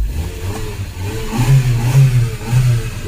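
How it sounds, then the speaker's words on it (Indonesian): An old Verrica pickup truck's small engine revs in a few short bursts, a low rough hum swelling and easing close by with no one talking. "Mantap suara mesinnya ini."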